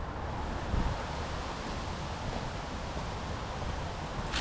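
Cold wind blows steadily during snowfall in a frigid Chinese winter, a continuous broadband rush with no gusts or pauses, close to the microphone and with no one talking.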